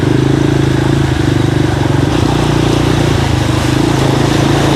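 A small scooter engine drones loud and close at a steady pitch while riding through floodwater, with a constant rumbling, sputtering texture and no pauses.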